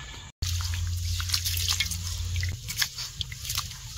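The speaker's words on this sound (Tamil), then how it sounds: "வாங்க அரிசை கழுவிக்கலாம்." Rice for Dindigul biryani being washed in water, a continuous close sloshing with small drips and splashes over a low steady hum, no voices.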